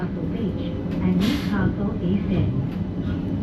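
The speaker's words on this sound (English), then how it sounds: "This is where the tram will terminate." Newcastle Light Rail tram standing at the Newcastle Beach terminus, a steady low rumble of the vehicle with a brief higher whine, heard close up under a spoken announcement.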